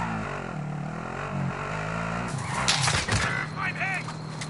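Car driven in Warzone, its engine humming steadily at first, then roaring and revving amid clattering bursts as people speak over it.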